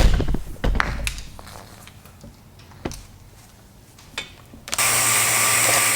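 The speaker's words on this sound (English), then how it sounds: "we're going to go ahead and turn the vacuum on and see what happens here" A vacuum pump for a woodworking vacuum bag, used while making a segmented sphere inlay, switches on near the end as a loud, steady broadband whoosh and hum, preceded by scattered clunks and handling knocks of setup.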